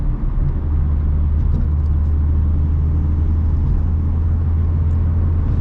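A Ford Mustang driving on a German road, heard as a steady, loud low engine and road rumble that stays even throughout from inside the car, with no talking.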